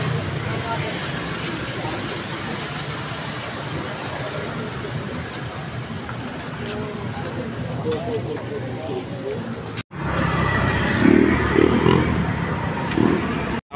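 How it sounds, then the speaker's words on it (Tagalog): Busy roadside traffic with many large vehicles, including buses and trucks, passing close by as a continuous rumble and roar that grows louder near the end, while people talk over it. "Tawid na naman kami sa kalsada guys. Ito, daming sasakyan, malalaki"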